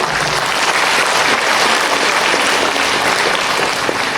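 An audience at a school day event claps steadily, a dense, loud wash of applause from many hands with no talking over it.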